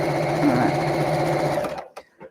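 A sewing machine stitches fabric in a steady, fast mechanical whir for nearly two seconds, then stops, followed by a couple of faint clicks.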